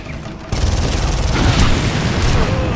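Gunfire from enemy mercenaries in the video game Far Cry, heavy, loud and continuous, a dense rolling barrage of shots that bursts in suddenly and keeps pounding without a break.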